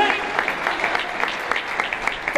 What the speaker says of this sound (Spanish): Denle un aplauso a Dios, porque esto es de Dios.